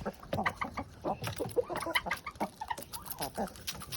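A flock of hungry chickens, with a turkey among them, cluck and squawk in quick overlapping bursts close by while waiting for feed.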